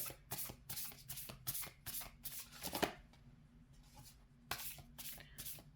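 A deck of tarot cards being shuffled by hand in a series of quick, crisp riffling bursts, close and fairly quiet, with short pauses between the bursts.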